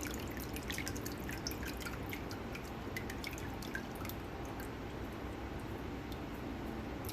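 Liquid rennet trickles steadily over a spoon into a pot of goat milk during mozzarella making, a soft continuous dripping and pouring patter without talk.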